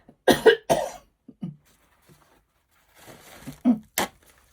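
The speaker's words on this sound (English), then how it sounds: "Still got my silly cough, sorry." A few sharp coughs close to the mic, clustered at the start and again near the end, separated by quiet pauses.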